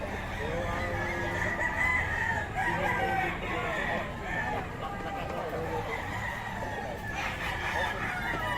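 A young rooster (stag) crows several times, mixed with clucking and other chickens at a poultry yard, while people talk nearby.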